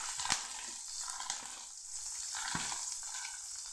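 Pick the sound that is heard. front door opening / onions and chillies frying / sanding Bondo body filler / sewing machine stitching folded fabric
onions and chillies frying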